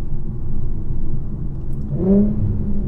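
Low, steady drone of an Infiniti Q50 rolling at about 30 mph in second gear, swelling briefly into a rising engine note near the end as it starts to accelerate, heard from inside the cabin.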